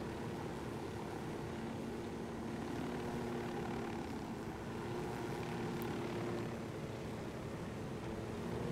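A continuous, steady helicopter engine drone with a low rotor-like rumble runs unbroken throughout, loud and constant, in the video game Ghost Recon Wildlands.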